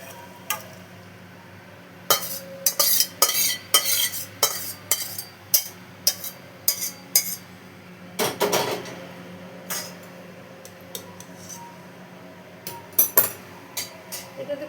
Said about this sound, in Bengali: এবার আমি সার্ভ করে নিচ্ছি